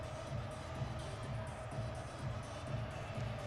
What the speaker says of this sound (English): this is a crowd that is hyped and ready